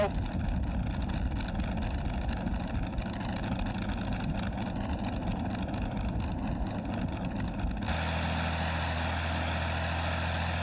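A Curtiss P-40E Warhawk warbird's engine runs steadily and loud throughout, a continuous droning roar that shifts to a smoother, more even tone near the end as it settles at higher revs.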